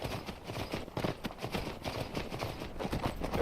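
Horse hooves clip-clop in a steady, uneven rhythm across ground in Skyrim, moderately close and continuous over a faint background bed, with no talking.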